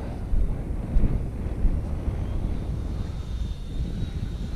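A Freewing L-39 Albatros 80mm electric ducted-fan RC model jet flies with a low, steady rumble mixed with wind buffeting on the microphone, moderately loud and continuous with no talking.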